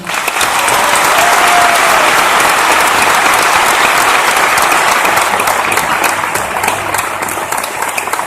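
Dense, sustained applause from a graduation audience fills the hall, loud and steady throughout with no pauses, a faint crowd murmur beneath the clapping.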